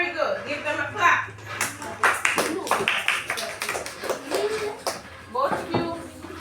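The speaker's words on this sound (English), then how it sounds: "Give them a clap." Children clap in a classroom, bursts of crisp, uneven hand claps with some taps, along with a teacher's voice and children's chatter.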